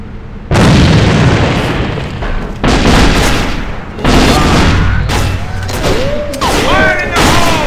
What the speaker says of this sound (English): Grenade straight ahead.